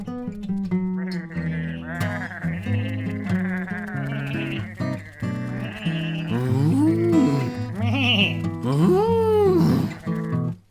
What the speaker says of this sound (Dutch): Een skiep zei bij